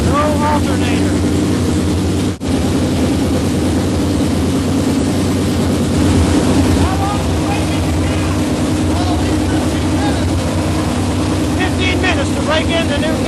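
A 1955 Chevrolet hotrod with a 454 big-block V8, run after sitting 25 years, held at a steady high idle, a loud, constant rumbling drone close by, with faint voices in the background.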